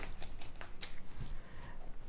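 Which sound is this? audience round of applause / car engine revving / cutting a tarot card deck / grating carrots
cutting a tarot card deck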